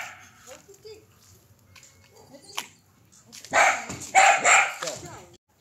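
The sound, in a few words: dog barking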